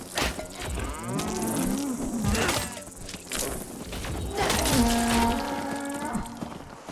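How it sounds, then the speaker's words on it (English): Cattle mooing in the video game Fallout 76, several long, drawn-out lowing calls close by, one after another, with a brief clatter between them and no talking. "Get back here, you mad cow!"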